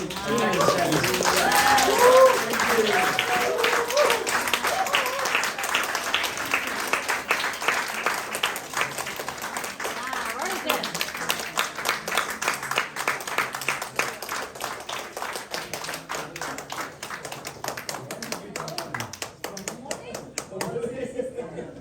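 An audience applauds a guest president, dense clapping rising at the start and then thinning into scattered individual claps, with voices talking over the later part.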